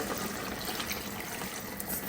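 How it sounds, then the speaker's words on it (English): Water poured into a pot of steamed meat while cooking a spicy waakye stew, a steady close splashing flow lasting throughout with no talk. "Now I'll add a little water for it to cook."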